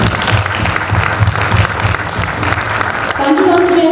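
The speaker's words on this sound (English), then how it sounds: "Applause for Management." A crowd at a management conference in Mumbai applauds for the management institute cadets, dense steady clapping throughout, with a tone rising near the end.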